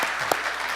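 Church congregation applauding during a Friday worship service, a brief steady burst of clapping filling the room at moderate level.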